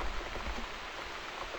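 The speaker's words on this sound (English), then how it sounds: "Looks like we got the rain back." Steady rain in The Cat Lady video game, a soft continuous patter on surfaces, faint and even throughout with no voices.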